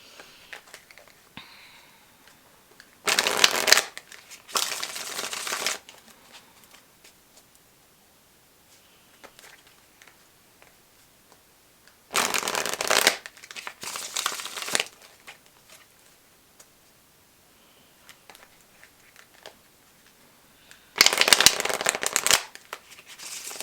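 Tarot cards shuffled by hand in three separate bursts of brisk riffling and flicking, each lasting a few seconds, with quiet pauses between them.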